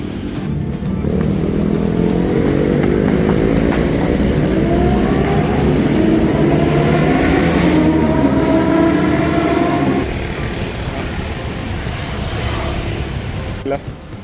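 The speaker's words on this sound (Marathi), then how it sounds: "ट्रेन बघायचं" A train passing at the Surabaya Gubeng railway station level crossing in Indonesia, a loud continuous rumble of wheels and carriages that fades after about ten seconds, with a brief horn-like tone near the end.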